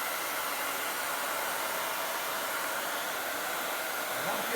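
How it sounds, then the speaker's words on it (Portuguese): A hair dryer runs steadily, a loud continuous airy hiss that holds unchanged from start to finish with no other sounds. "Vamos pro secador de cabelo aqui."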